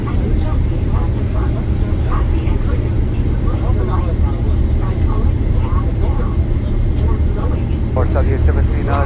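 A Saudia airliner takes off from Lahore with a loud, steady low jet rumble throughout, under radio voices talking over it.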